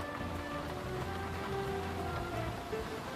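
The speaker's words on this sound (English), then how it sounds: "it seems like it's raining there" Rain and wind during Hurricane Irma in Miami Shores, Florida, a steady wash of falling rain with a low rumbling bed of noise underneath, continuous and fairly close, with no one speaking.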